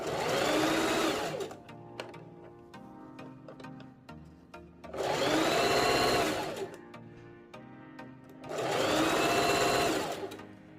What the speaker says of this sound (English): grab the two layers and sew.